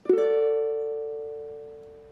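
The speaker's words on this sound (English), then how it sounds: "And it should sound again something like this." A single strummed ukulele chord rings out clearly and decays slowly over about two seconds, alone with no talking.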